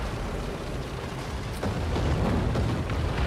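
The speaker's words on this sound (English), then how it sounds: "there was first round of artillery fired from I don't know who called it in" Artillery rounds landing in the tank game War Thunder, a continuous rumbling blast with a sharper boom near the middle and heavier low thuds afterward, loud and without talk.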